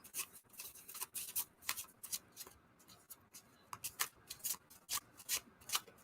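Thick tarot cards riffled and shuffled up close, a series of crisp papery flutters and slaps with brief pauses between bursts.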